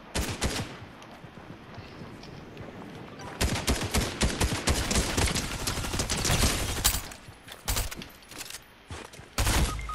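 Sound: gunfire in the Fortnite video game

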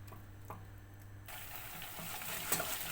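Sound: pepper and tomato paste frying in oil

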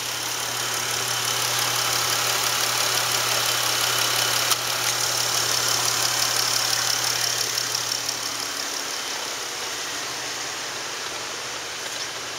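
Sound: 2013 Dodge Caravan 3.6 engine running

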